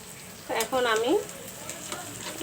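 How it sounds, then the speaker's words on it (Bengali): Beef for kala bhuna sizzles in a pan while it is stirred, giving a short burst of scraping and sizzling over a steady background fry. "এটা লাড়া দিতেছি গোশগুলো"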